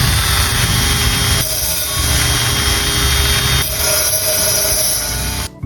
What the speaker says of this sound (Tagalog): Ang gagamitin ko nga palang pagtabas dyan itong mini grinder.